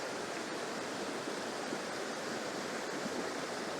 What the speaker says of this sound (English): with the water running past